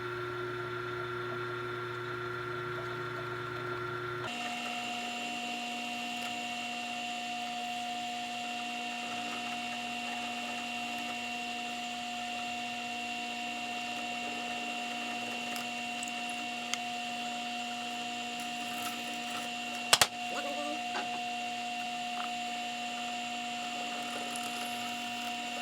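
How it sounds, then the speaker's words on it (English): A power drill bores all the way through a workpiece for a hook and ring project, its motor starting abruptly and then whining at a steady pitch for about twenty seconds, with one sharp knock near the end. "Now I'm gonna drill all the way through."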